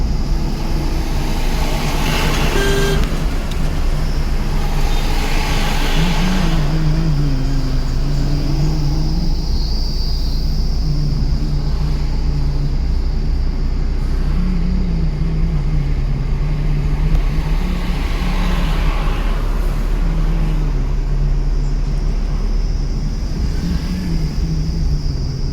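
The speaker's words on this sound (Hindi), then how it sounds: "चौथा लगाओ आप गियर, छोड़ दो क्लच को, रेस दो" A car with its engine revving and pulling in fourth gear, a steady loud drone whose pitch rises and falls in waves as it accelerates, with road and wind noise throughout and no talking.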